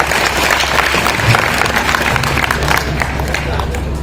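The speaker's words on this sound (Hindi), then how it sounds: "इस उत्सव के लिए एक बार तालियों का महोत्सव होना चाहिए" Applause swells from the audience at a Hindi poetry evening, a continuous clatter of many hands with a low hum beneath and some talking over it.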